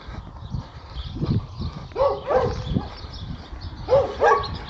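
Wild dogs bark out near open fields below a hillside, giving several loose bursts of barking with a few yips, at a moderate distance and rising and falling irregularly, with no talk over them.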